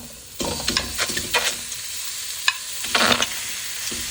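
Pork sizzles and crackles in a hot pan as it is stir-fried, with bursts of scraping and frying noise coming and going.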